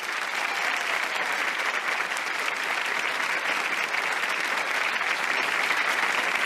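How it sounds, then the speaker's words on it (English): TV studio audience applauding loudly and continuously, a dense, even roar of many hands clapping with no pauses and no oohs standing out. "because everybody was clapping, oohing"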